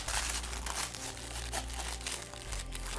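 Plastic blister wrap being peeled and crinkled off a Children of Litha tarot deck, a close, continuous rustling and crackling with no talking.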